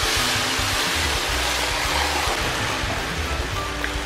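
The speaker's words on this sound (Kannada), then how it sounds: "ಇಲ್ಲಿ 3 ಕಪ್ಪಿನಷ್ಟು ನೀರು ಹಾಕಿದೆ ನಾನೀಗ" About three cups of water pour into a pot of Udupi-style sambar with onion, chopped vegetables and tomato, making a loud, continuous rushing splash that holds steady for several seconds.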